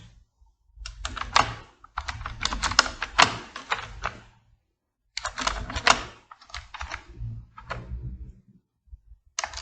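Rapid bursts of typing on a computer keyboard, keys clattering in quick runs with short pauses between phrases, close and fairly loud with no voices.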